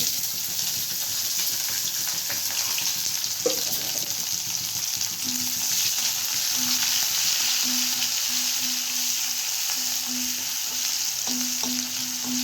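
Onions fry in a pan with cinnamon, curry leaves and asafoetida for pulao rice, a continuous hissing sizzle throughout with faint intermittent tonal beeps in the background.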